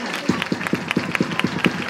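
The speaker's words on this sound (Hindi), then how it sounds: "पास आए हैं तो तालियां बजा के बताएं ना" Rhythmic clapping from a welcoming crowd in Pakistan, steady beats roughly every quarter second, loud and close, with a faint murmur of voices underneath.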